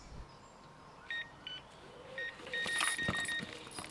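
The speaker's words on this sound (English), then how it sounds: "My alarm started bleeping." Faint short electronic bleeps from a fishing bite alarm sound a few times, then a longer run of high beeping over quiet outdoor canal-side background.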